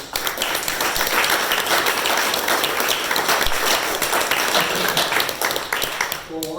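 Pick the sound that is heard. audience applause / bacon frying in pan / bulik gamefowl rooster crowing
audience applause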